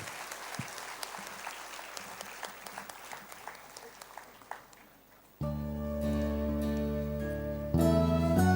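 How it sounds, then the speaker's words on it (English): An audience at an inter-religious gathering in a church applauds for about five seconds, a moderate wash of clapping, before loud sustained music cuts in and continues to the end. "give them a big round of applause"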